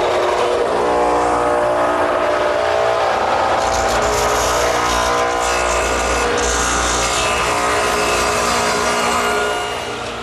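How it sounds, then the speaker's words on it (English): A radial arm saw fitted with a stacked dado head about 5/8 inch wide plows out wood for a half-lap joint in a patio garden table, giving a loud, steady motor whine with grinding cutting noise throughout, no talk. "I've set up the radial with a stacked dado head cutter, about 5/8 of an inch in width"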